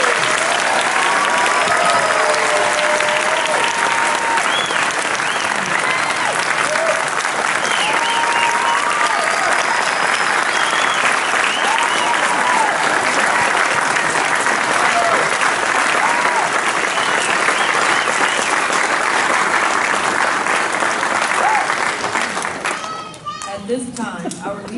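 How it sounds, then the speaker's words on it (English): Loud, sustained applause from a large crowd at a U.S. Army Drill Sergeant Academy graduation, with cheers and whoops scattered throughout, continuing for over twenty seconds before starting to fade. "Please join me in a round of applause for our graduating class."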